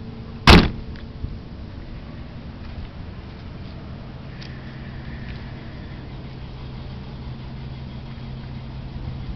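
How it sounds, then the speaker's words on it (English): A single solid thunk from a door shutting on a 1978 Daimler Jaguar limousine, sharp and close, then a quiet idle-like hum and faint clicks for the rest. "that's how it sounds when you close these doors."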